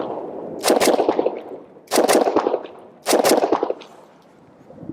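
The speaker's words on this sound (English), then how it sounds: "you just torch off the rounds as fast as you can" Pistol fired as fast as possible at close range, in three loud rapid bursts of shots about a second apart, each burst a dense string of sharp cracks with quiet gaps between.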